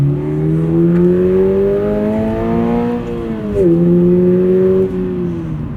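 A salvage-rebuilt 2022 Subaru BRZ engine drones loudly from inside the car while driving, pitch climbing steadily under acceleration, dipping briefly at a gear change, then pulling again.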